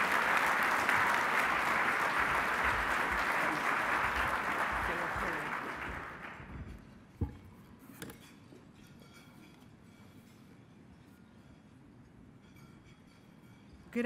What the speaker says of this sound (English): a great big round of applause for Karen